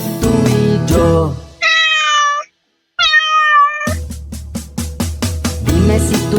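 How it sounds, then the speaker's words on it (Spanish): A cat meows twice in a children's animal-sounds song, two clear drawn-out cries standing alone between loud bursts of music. "Dime si tú sabes cómo hace el gato."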